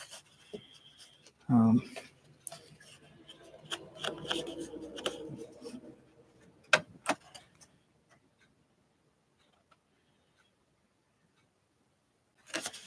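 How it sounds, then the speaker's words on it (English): Heavy 140 watercolor paper is handled and rubbed up close, making scattered dry rustles and scrapes that fade to near silence before one last crinkle. "As you can hear, it's a much heavier paper than the 120."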